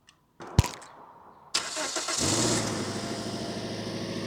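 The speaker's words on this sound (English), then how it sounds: "The car starts." A few clicks, then a car engine cranks and catches on a Peelsee E1 portable jump starter, settling into a steady idle.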